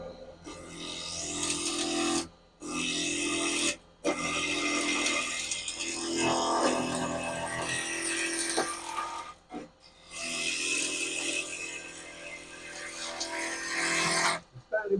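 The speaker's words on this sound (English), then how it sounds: "I'm going to start up, stand over here, make a few cuts with my spowl gouge" A spowl gouge roughing a piece of wet ash on a wood lathe makes loud, continuous scraping and chattering, broken by a few brief pauses between cuts.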